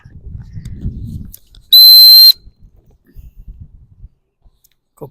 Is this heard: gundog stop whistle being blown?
yes